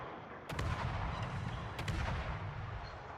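Naval guns fire from warships in a video game, heavy booming artillery blasts over a constant rumbling battle ambience, with two sharp reports standing out.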